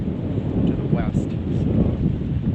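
Wind blows hard at a lakeside camp on Nina Moose Lake in the Boundary Waters, a steady low roaring rush buffeting the microphone.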